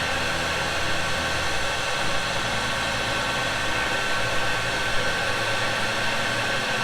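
Heat gun blowing a steady, loud airflow roar while shrinking heat shrink tubing on a vintage refrigerator's wiring near styrofoam insulation, continuous and close with no pauses.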